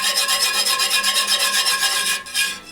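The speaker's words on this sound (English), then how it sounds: "You want to whisk the flour in so it doesn't clump up on you" A whisk scrapes steadily through flour and hot oil in a pot while making a gumbo roux, a continuous rhythmic rasping with quick regular strokes that is close and fairly loud, then easing off near the end.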